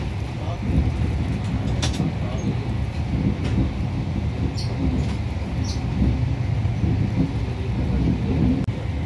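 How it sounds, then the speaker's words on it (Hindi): A passenger train rolling slowly along the track, heard from inside the carriage as a constant rumbling drone with a few faint squeals, under low background voices. "ट्रेन हमारी बहुत आराम आराम से जा रही है"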